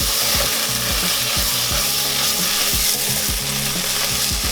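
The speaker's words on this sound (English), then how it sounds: "do you hear how crackly this curry sounds?" Loud, dense sizzling and crackling of lamb keema curry in a hot pan with rhythmic scraping strokes of a spoon stirring through it, close up and continuous.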